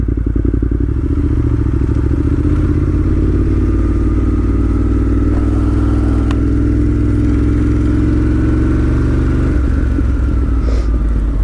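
A 2018 Ducati Monster 1200S motorcycle being ridden, its engine a loud, steady close-up drone that holds throughout with a slight pitch rise, a few clattering knocks and one sharp thud near the middle.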